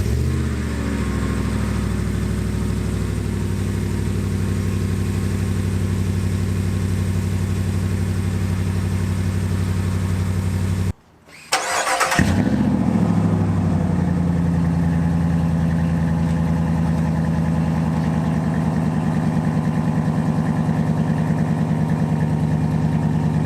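A 2019 RAM 1500 truck with the 5.7L HEMI V8 and a Flowmaster American Thunder catback exhaust idles with a deep burble, cuts out briefly, then fires up with a sharp roar and settles back into a loud, steady rumbling idle.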